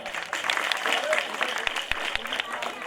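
An audience at a Christmas event claps for a small child dressed as Santa Claus, a dense, steady burst of applause, fairly close, with a voice speaking over it.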